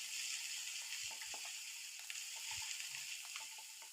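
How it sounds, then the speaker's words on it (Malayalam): Crushed ginger, garlic and green chili sautéing in hot coconut oil, a steady, soft hiss of frying with a few faint low knocks, close and quiet, with no voice. "ഇനി നമുക്കിതിലേക്ക് 1 ടീസ്പൂൺ ഇഞ്ചി വെളുത്തുള്ളി ചതച്ചതാണ്, അത് നമുക്ക് ഇട്ട് കൊടുക്കാം."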